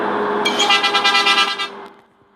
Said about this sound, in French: Regardez, les gars, écoutez le klaxon, vous allez rigoler.